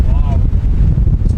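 Strong wind in a squall at sea on a yacht in the Pacific roars against the microphone in a dense low rush, with a brief voice near the start.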